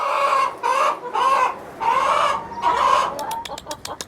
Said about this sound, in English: We have almost 2 acres of land with some chickens